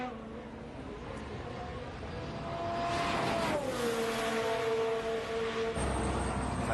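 Formula 1 AlphaTauri car lapping the Dutch Grand Prix circuit in qualifying, a distant engine whine rising in pitch and then sweeping down as it passes, with a broadcast commentator talking over it.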